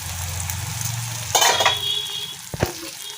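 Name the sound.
lid taken off pan of cooking tomatoes and onions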